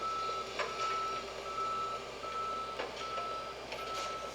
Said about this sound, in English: Hey, there's the tow trucks.